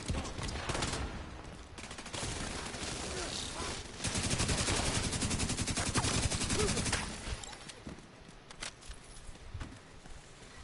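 Rapid bursts of submachine gun fire in the shooter game The Division 2, dense rattling volleys that taper into scattered single shots and game effects.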